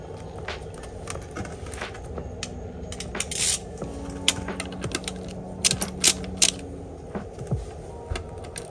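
A hand ratchet clicks while a 10 mm bolt is backed out of an Acura Integra B-series transmission, with quick metallic ticks and light tool clatter in a quiet shop.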